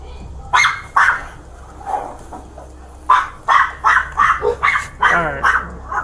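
Dogs bark repeatedly in loud, close bursts at a window, with some whimpering and yips between the barks and a person talking over them.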